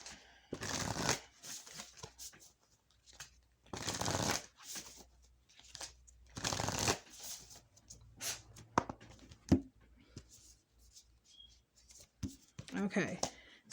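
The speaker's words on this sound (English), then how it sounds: "I'm not in the best position to actually be shuffling on camera" Tarot cards are shuffled in several brisk riffling bursts, each about a second long, close to the microphone. Someone talks quietly in the pauses between the shuffles.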